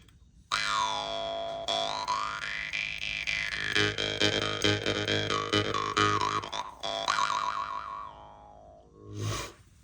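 A jaw harp twangs loudly and up close, its bright overtones sweeping up and down in a continuous wobbling drone before a short final burst.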